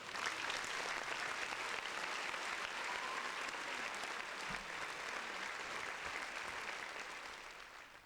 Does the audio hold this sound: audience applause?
yes